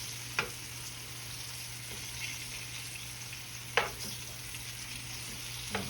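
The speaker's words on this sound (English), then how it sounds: "we're gonna sear this off." Turkey wings sear in an Instant Pot, giving a steady, loud frying sizzle with a constant hiss throughout and a few sharp clicks and pops at intervals.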